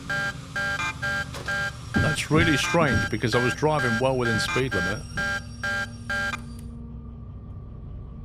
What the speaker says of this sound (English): The defect detector's kicking off.